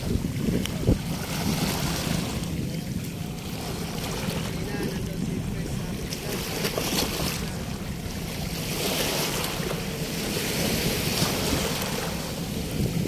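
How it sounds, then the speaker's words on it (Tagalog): Sea waves wash along the shore of Manila Bay at sunset in a steady, broad roar mixed with strong wind buffeting the microphone, continuous and close. "Yan ang ating karagatan dito mga kabayan."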